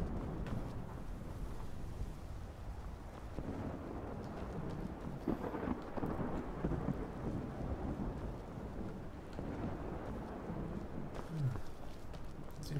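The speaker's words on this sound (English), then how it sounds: "Sort of a thunderstorm, dry lightning storm." A dry lightning thunderstorm outside Whiterun in Skyrim gives a continuous low rumble of thunder with wind and rain-like hiss, steady and moderately loud throughout.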